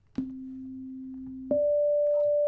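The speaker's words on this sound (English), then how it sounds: "it's also giving off the exact same sine wave right now" A pure electronic sine wave from a synthesizer oscillator hums steadily, then a second, higher sine tone from another oscillator switches on abruptly and holds, clean and constant.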